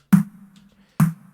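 Two snare hits stand alone, each with a low, gritty, distorted body and a short ringing tail.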